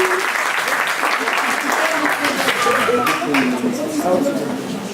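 A church congregation applauds to welcome Laetitia before her testimony, with a continuous round of clapping from the crowd lasting several seconds as voices murmur through it.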